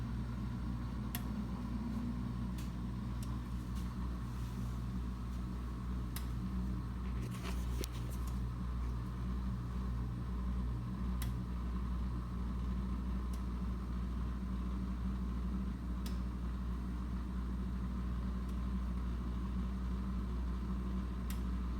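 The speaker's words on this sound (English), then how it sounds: "you could hear it's evacuating the water" A Viking dishwasher drains water on a normal wash cycle with a steady low hum and whoosh of the pump, continuous and even throughout, with scattered faint clicks and ticks.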